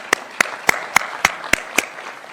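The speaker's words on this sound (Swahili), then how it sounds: "Tuwapigie makofi jameni." Clapping at an EU-supported event in Musumbi, heard as seven sharp, evenly spaced claps in a slow steady rhythm, fairly close and fading out after the last one, with no voices.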